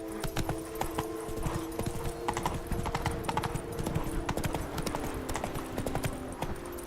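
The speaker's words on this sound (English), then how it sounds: "Whoa there, Roach" Rapid rhythmic clip-clop of horse hooves in The Witcher 3, a continuous close trotting patter over a low ambient hum.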